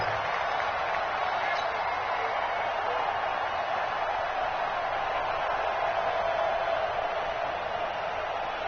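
Stadium crowd at a football game roaring steadily ahead of a big third-down play, a broad, sustained wash of cheering heard from a distance.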